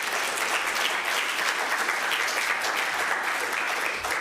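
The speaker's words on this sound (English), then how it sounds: "have a round of applause" Steady, full applause comes from an audience at the Distribits 2024 conference on distributed data management. The dense clapping of many hands continues without a break for several seconds and no one speaks over it.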